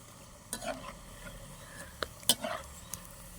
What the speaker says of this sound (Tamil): எண்ணெயில் வடிவாக பொரிஞ்சிட்டு இப்போ நான் இதை வந்து எடுக்க போகிறேன்